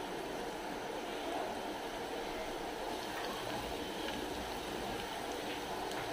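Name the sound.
lauki kofta balls frying in hot oil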